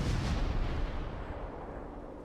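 Naval guns boom in World of Warships battle action, a heavy deep blast at the start rolling off into a fading low rumble.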